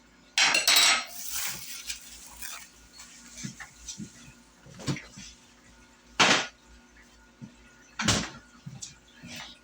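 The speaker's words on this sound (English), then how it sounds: "Going to just work this into that mixture with my fork." Fork scraping and clinking in a bowl while bacon grease is worked into a dry baking mixture with baking soda, in irregular close bursts of metal-on-bowl strokes with pauses between.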